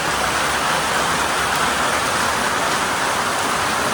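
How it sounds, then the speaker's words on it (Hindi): Heavy rain pours steadily near Jim Corbett forest, a dense, even hiss of drops close by with no voices and no letup. "तो जी तेज बारिश हो गई।"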